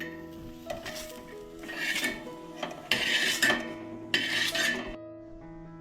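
Tomatoes roast in a pan, stirred with a utensil that scrapes and clatters against the metal in loud rasping bursts, close up and without speech.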